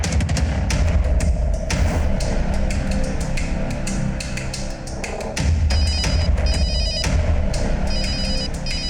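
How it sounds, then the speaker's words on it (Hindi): A telephone rings loudly and continuously in a tense crime drama scene, with a busy bell-like trill over a dense, thumping background, no talking heard. "लड़की के पति का फोन आ रहा है"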